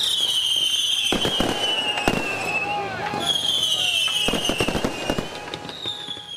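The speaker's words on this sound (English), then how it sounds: "Players celebrating the end with fireworks just before 6 o'clock this morning." Fireworks celebrating the end of the world's longest outdoor hockey game in cold, icy weather, with repeated crackling bursts and pops over a high whistling hiss, while people talk and cheer throughout.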